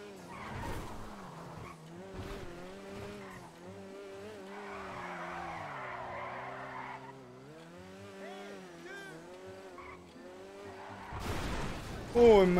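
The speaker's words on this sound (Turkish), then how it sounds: "Çok güzel kaydırıyoruz ama çılgın baya." Lada Cheburek car in GTA 5 Online drifting and skidding at high speed, a sustained engine drone with tire squeal rising midway, under excited talk and exclamations, ending in a loud burst.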